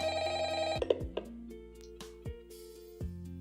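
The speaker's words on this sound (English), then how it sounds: "somebody's calling me on my phone" A phone rings with a steady tonal ringtone, overlapping with game music and sound effects, close and moderately loud.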